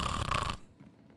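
A person imitating loud snoring with a single rough, drawn-out snore in the first half second, then near silence.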